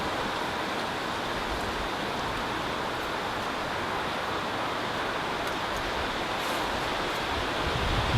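Constant wind blowing in a graveyard, a broad steady rushing noise that buffets the microphone slightly, with no talking.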